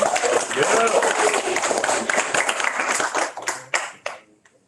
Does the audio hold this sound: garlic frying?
no